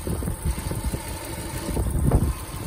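A Subaru Impreza XV hatchback with its two-litre EJ20 engine idles under the open hood, a steady low rumbling thrum heard close up and alone.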